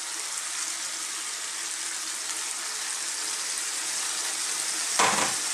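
Chopped tomatoes are stirred into a frying potato and bell pepper curry; a steady, close sizzle hisses throughout, then a short scrape of the spoon near the end.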